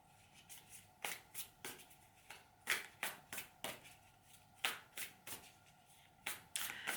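Tarot cards are shuffled by hand in quick repeated riffling bursts, a crisp close flutter recurring about twice a second with brief pauses between.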